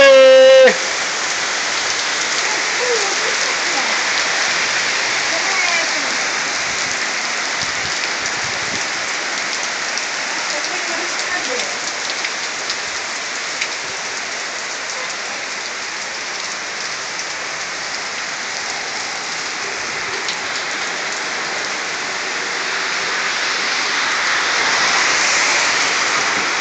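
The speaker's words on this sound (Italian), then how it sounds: "Piove, che schifo." Steady rain falls in the countryside in late October, a dense continuous patter on surfaces that stays even and fairly loud throughout, with no voices.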